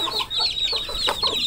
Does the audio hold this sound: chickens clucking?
yes